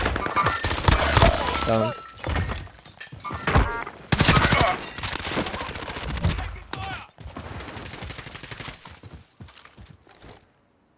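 Rapid bursts of MP5 submachine gun fire in Call of Duty Warzone, loud and close, in dense volleys with brief pauses, mixed with other game effects while a player speaks briefly.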